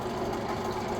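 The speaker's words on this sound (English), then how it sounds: "Forgive that noise in the background. That's a little heater going on." A small heater runs steadily inside a greenhouse, giving a constant mechanical whirring hum with a faint rattle, fairly close and with no talking over it.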